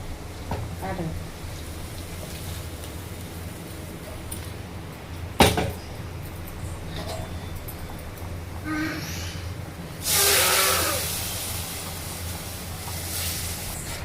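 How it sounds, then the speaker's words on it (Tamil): Hot tempering of fried green chilli and onion in oil poured into a carp fish curry made with coconut milk, a sudden loud sizzling burst late on over a steady low background hiss, with a sharp knock earlier. "இதை எடுத்து நம்ம மீன் குழம்புல தாளிப்பு ஊற்றிடலாங்க"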